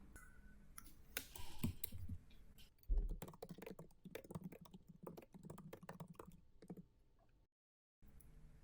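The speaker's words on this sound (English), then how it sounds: "I'm going to go ahead and click on send message" Rapid, irregular clicks and taps from a computer mouse and keyboard being worked close by, steady for several seconds before dropping into a brief silence.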